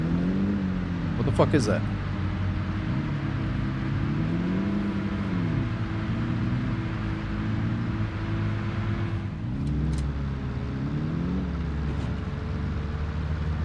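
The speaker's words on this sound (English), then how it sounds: "Oh shit, is that a car?" A car engine runs steadily in the Arma Reforger video game, with a low droning hum and wavering pitch that rises and falls, continuing under excited talk and a few sharp clicks.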